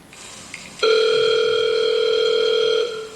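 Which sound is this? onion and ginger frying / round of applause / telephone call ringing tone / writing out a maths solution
telephone call ringing tone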